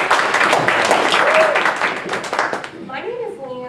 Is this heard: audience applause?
yes